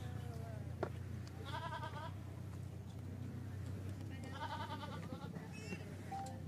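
A goat bleats twice at a cafe gathering, harmonic calls standing out over steady low rumble and background chatter of the crowd.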